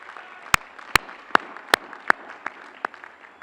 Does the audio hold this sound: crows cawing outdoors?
no